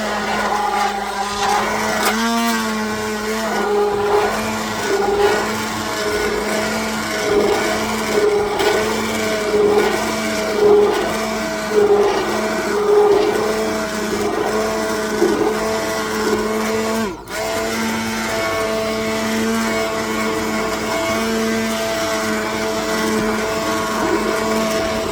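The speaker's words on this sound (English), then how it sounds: "I'm getting my immersion blender." An immersion blender whirs through potato soup in a pot, a loud continuous motor whine with small pitch shifts as it churns, running nonstop close up.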